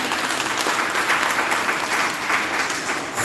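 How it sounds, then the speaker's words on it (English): A crowd at a live online event applauds the five gentlemen, a steady, dense wash of clapping that holds loud and even for the whole stretch with no talk over it. "Can we give the gentlemen a round of applause?"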